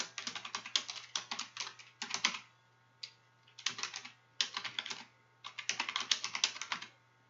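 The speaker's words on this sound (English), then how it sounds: "In the Add Title section, type in your new title." Fingers type a page title on a computer keyboard in quick, clattering bursts of keystrokes separated by short pauses, close and fairly quiet with no other sound.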